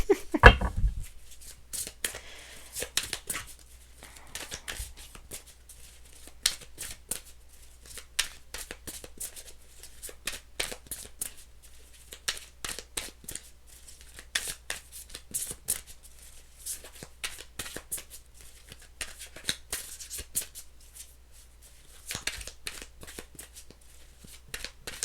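Tarot cards being shuffled repeatedly up close, bursts of soft papery flicks and slaps with short pauses between them.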